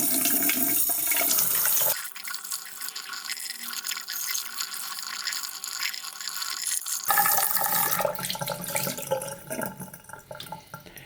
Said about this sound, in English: In this case I will wash this filter.